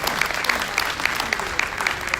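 Conference audience at a diaspora plenary session applauds in a sustained, loud burst of many hands, with a few sharper claps standing out rhythmically throughout.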